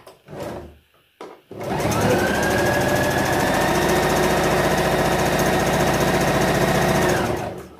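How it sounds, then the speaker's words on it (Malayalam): Sewing machine stitching the lower edge of a saree blouse: after a couple of short starts, a loud, steady, close-up motor drone with rapid needle clatter runs for about six seconds before stopping. "നമ്മൾ ഈ താഴത്തെ ഭാഗം ഒന്ന് അടിച്ചു കൊടുക്കാൻ പോവാണ്"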